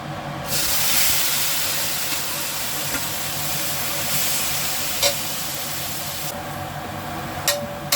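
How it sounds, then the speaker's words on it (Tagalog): Radish sizzles steadily while being sautéed in a pan, with a continuous hiss and a few brief clinks of utensils near the end. "Gisa-gisa lang po ng kaunti"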